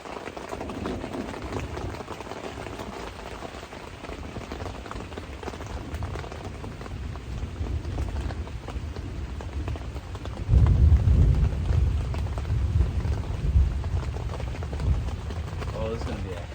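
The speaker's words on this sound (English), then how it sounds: "this is gonna be a hell of a storm." Storm at a campsite, with steady heavy rain drumming on a surface and a deep rumble of thunder rolling in partway through, louder near the end, and a person's voice heard at times.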